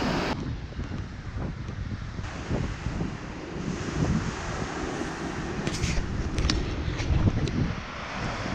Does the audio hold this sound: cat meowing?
no